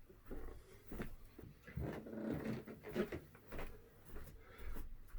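A newly adopted dog moves about nearby indoors, giving soft low growling grumbles, snuffles and pants in uneven bursts, fairly quiet and close.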